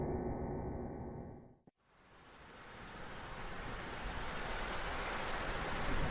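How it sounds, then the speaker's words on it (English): Rushing, crashing water fills the scene after a short break, a steady loud wash of broadband noise around a boat with a whirring motor, rising slightly toward the end; a faint mechanical hum precedes the cut. "The loud whirring of the motor and the crashing water made it hard to sleep on the boat."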